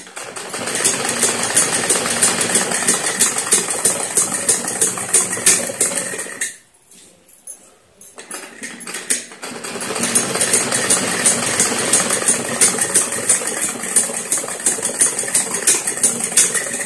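Sewing machine stitching a semi Patiala salwar, a loud, fast, steady mechanical whirr running close up, stopping for about two seconds midway, then resuming just as strongly.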